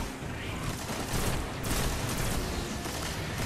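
Dense, sustained gunfire from a firefight in the video game Destiny, steady and loud throughout with overlapping shots and no clear pauses.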